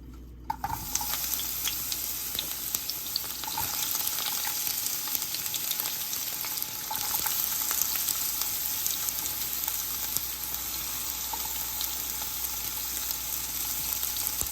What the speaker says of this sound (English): I'm going to pan sear them on both sides before I put them in the crock pot